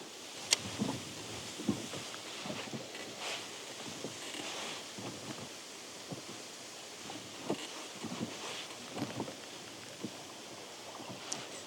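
Steady wind buffeting outdoors during spin fishing with a jig, with rustling and occasional small knocks, a broad continuous noise without voices.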